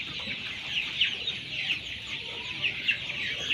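Twenty-one-day-old colour bird broiler chickens cluck and chatter as a flock, a steady cluster of soft calls with brighter peaks repeating throughout, close by, with no talking.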